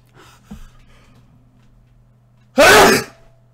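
A single loud sneeze bursts out sharply after a short quiet stretch with a faint breath just before it, close to the listener against a low steady hum.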